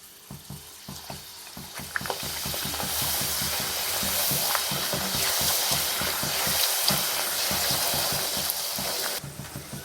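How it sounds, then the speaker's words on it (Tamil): Jeera boli frying in hot oil in a kadai, a steady bubbling sizzle with soft crackles, rising slightly in loudness and holding close and continuous. "இப்போ இதை பொரிச்சு எடுத்துக்குவோம்."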